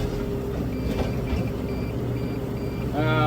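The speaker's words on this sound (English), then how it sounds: "Wait for the beeping to stop" A hay baler's warning beeps repeat at an even pace over a loud, droning engine rumble, with the machinery noise swelling near the end.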